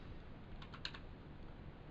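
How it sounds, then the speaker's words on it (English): A few soft key presses on a computer keyboard, including down arrow, end and return, make a quick cluster of faint clicks near the middle against a quiet background hiss. "That was a down arrow and an end key, return"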